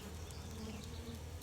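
Steady, dense buzz of many honeybees swarming around an open, well-populated hive during an August inspection, continuous and close with no voices.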